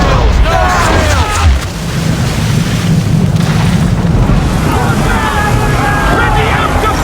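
Ship cannons fire a broadside in the Assassin's Creed 3 naval combat, heard as deep rumbling booms over steady wind and water noise, with shouting voices mixed in.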